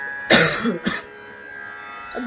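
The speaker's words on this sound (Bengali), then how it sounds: "গান করলেই কাশি হয় কেন রে" A singer coughs twice in quick succession, loud and close, with a hush around and a faint sound at the end.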